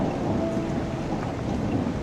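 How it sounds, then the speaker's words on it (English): Heavy rain pours steadily during a wilderness storm, heard from a camping shelter beneath a boulder, as a dense hiss with a faint low thunder rumble underneath, with no voices. "The cold rain kept beating against him."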